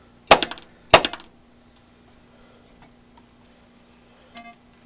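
A ball striking a target on a Gameplan Sharp Shooter II pinball machine gives two sharp, loud clacks with a short ringing tail about half a second apart, then a faint hum and a softer click later.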